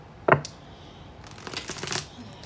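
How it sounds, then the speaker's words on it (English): Tarot cards being shuffled in a sitting during an Aquarius love reading, with one quick riffle near the start, then a longer burst of papery card rustling and flicking, moderately close. "And one more shuffle."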